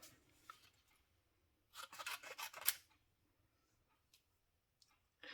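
Scissors snip through paper for a handmade card in a short burst of crisp cuts, close and fairly quiet, followed by faint ticks and rustles.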